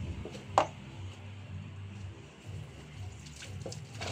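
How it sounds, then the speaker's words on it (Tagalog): Colored clothes being rinsed by hand in water, with soft continuous sloshing and one brief sharper splash near the start, low and steady with no talking. "Itong time na to, nagbabanlaw na ako ng colored na mga damit."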